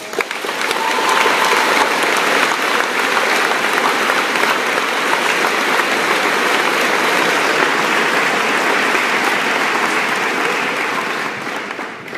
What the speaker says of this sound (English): he deserves a round of applause to thank him for that